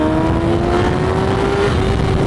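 A Kawasaki Ninja ZX10R engine holds a high, steady rev of around 9,000 rpm, its pitch climbing slightly while wind and road rumble stay loud and continuous, with no voices.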